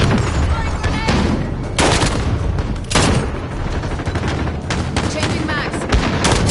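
Dense, loud video game gunfire crackles in sustained bursts and volleys, with heavy booming hits, while a voice talks over the fighting.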